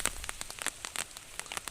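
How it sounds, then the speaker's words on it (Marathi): Rain falls by a creek in the Konkan, a dense patter of drops striking a nearby surface, with sharper irregular taps standing out against a steady hiss and no voices. "पाऊस आलाय तेवढाच."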